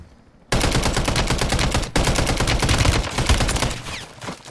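Rapid automatic gunfire in Call of Duty Modern Warfare III, starting abruptly after a brief quiet and rattling on in dense, loud bursts with only a short break near the middle.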